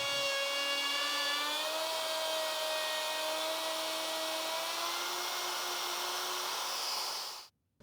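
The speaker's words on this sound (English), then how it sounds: "Route the dado in several shallow passes." A woodworking router cutting a dado in wood runs with a loud, steady high whine that holds its pitch for several seconds, then cuts off abruptly near the end.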